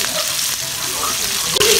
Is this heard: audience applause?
no